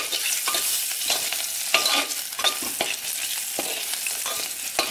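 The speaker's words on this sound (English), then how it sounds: "Now in this I'm adding crushed garlic." Crushed garlic frying in a pan for spinach khichdi, with a steady crackling sizzle and repeated scrapes and knocks of a spoon stirring throughout.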